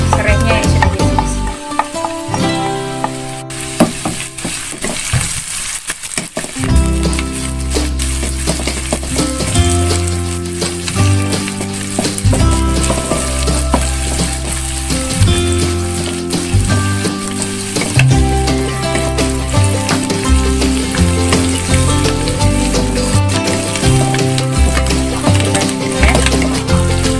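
Sliced chili and lemongrass fry in a hot pan for tuna with stink beans, a loud, continuous sizzle with repeated scraping and clattering as they are stirred.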